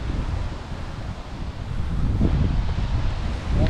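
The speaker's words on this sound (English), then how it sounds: "might be a bit windy." Strong wind gusts across an open golf course on a par 3 hole, a steady loud rushing roar with rising surges and buffeting against the microphone, no voices heard.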